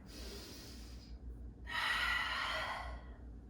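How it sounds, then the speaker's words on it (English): Two deep breaths close to the mic during a flow exercise, a faint airy inhale then, after a brief pause, a louder, fuller rushing breath lasting over a second. "We're taking a couple breaths of a nice big inhale up"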